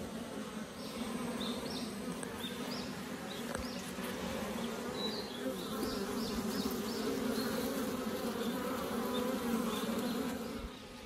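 Japanese honeybees hover outside their hive after a honey harvest, a thick, constant droning buzz with individual bees zipping past close by, steady throughout with no talking.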